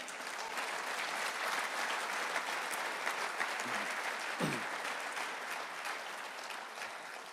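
Steady, dense applause from a church congregation during a Spanish-language sermon, broad and even throughout with no voices rising above it.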